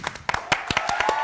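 A small studio audience claps on a Greek daytime TV show, a short patter of distinct handclaps that quickens into a brief, fairly close burst of applause.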